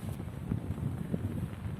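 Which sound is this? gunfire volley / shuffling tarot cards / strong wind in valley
strong wind in valley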